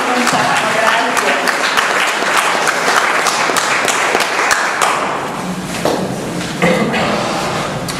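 Applause from an audience at an award ceremony fills the room, dense and loud, with individual claps standing out, then thinning slightly toward the end.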